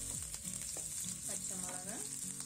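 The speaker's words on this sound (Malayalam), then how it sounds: "ഈ ഓയിൽ ഇവിടെ ചൂടായി വന്നിട്ടുണ്ട്. ഇതിലേക്ക് ഞാൻ ക്യാപ്സിക്കും" Capsicum dropped into hot oil in a home kitchen pan gives a steady, close sizzle and crackle, with soft stirring scrapes running through it.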